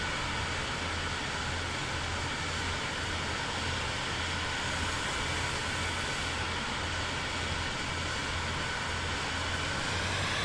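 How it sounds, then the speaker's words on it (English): Steady, close jet engine roar of an aircraft in Microsoft Flight Simulator 2024, a constant broadband rush with a faint high whine and a low pulsing hum throughout, no talk over it. "Why is my jet sounding really different right now?"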